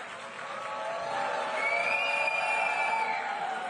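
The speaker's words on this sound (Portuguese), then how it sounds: "um certo tumulto, aplausos de um lado, vaias do outro" Crowd noise in an assembly hall during an uproar, a faint, continuous wash of many voices with cheering and jeering mixed together and no single sound standing out.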